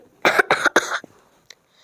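Three quick, harsh coughs in a row, close and loud, followed by a faint short exhale and near silence.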